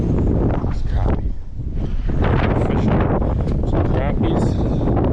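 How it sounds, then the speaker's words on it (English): Strong wind buffets the microphone while fishing for crappie from the water, a loud, constant roaring rush with a short lull, and a person speaks over it. "Very windy, but we're getting some."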